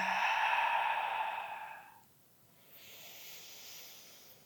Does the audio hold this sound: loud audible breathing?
yes